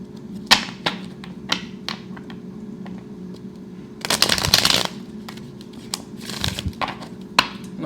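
Tarot cards shuffled in several quick riffling bursts, the longest lasting about a second, with soft handling taps in between against a steady low hum.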